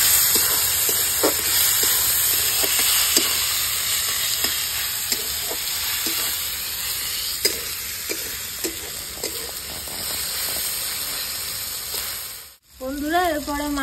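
Chopped tomatoes sizzle and fry in a pan for chicken curry while a utensil stirs them. The steady close hiss is broken by repeated scraping stir strokes and ends with a brief voice near the close.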